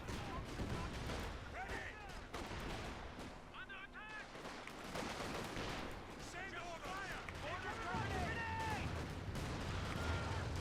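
A grenade goes off amid a 4v4 Company of Heroes 2 battle on the Port of Hamburg map, lost in continuous gunfire, artillery rumble and crackling combat noise, with a commentator talking over it throughout.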